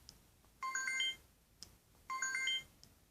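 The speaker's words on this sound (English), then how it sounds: "They have some old ringtones as well." An old-style electronic phone ring on a Samsung Galaxy S3 running Gummy ROM 4.4.2 repeats twice, a quick trilling melodic burst followed by a pause, clear and close.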